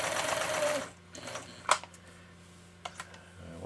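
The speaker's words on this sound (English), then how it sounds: "Once you've sewed on one of these machines" A domestic sewing machine being repaired and rebuilt runs steadily, a loud rapid stitching whirr for nearly a second, then stops, leaving a few faint clicks and taps of the mechanism.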